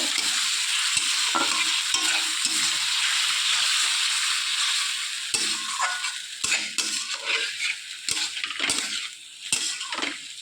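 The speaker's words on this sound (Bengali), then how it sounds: "লঙ্কার পেস্টটাও দিয়ে দিলাম সামান্য একটু জল দিয়ে। ভালো করে এটাকে এবার কষিয়ে নেব।" Green chili paste with a splash of water fries in a pan for a Bengali egg curry, with a steady sizzle and a spoon scraping and stirring in clattering strokes, close and loud.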